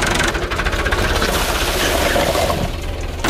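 A tractor engine roars loudly and close as it drives up onto a gas cylinder, giving a steady, heavy drone with rough mechanical vibration throughout.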